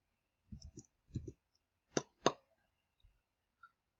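Mouse clicks on a computer while working in Autodesk Inventor CAD software: a few sharp, close clicks in quick pairs, then single taps, with quiet between them.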